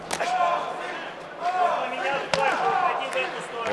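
A punch lands to the body in an MMA fight, heard as a few sharp thuds against a constant arena crowd roar, with commentary running over it.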